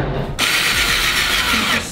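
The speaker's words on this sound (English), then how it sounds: "Right now we're drilling holes in the top of the deck." A power drill bores holes into the top of a skateboard deck, a loud, close, steady whining grind that begins abruptly after a brief click and runs without pause to the end.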